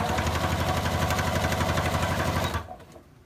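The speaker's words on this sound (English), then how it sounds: "I'm just doing a straight stitch on these." Sewing machine running a steady straight stitch along the fabric of a reading pillow, a fast even motor whir with rapid needle chatter that stops abruptly near the end.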